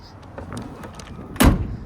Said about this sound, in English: Doors close perfectly.